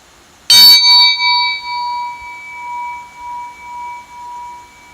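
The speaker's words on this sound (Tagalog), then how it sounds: "as you hear the sound of the bell, slowly close your eyes and draw your attention to your breath" A single struck bell opens a meditation, giving a bright metallic strike followed by a long, clear, sustained ring with pulsing overtones that slowly fades, with no voices.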